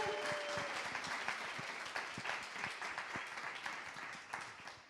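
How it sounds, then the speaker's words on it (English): A crowd at an evening arts event at Tate Modern applauds for several seconds, dense steady clapping from many hands that holds at an even level before thinning slightly at the end. "can everyone give a clap just to warm us up?"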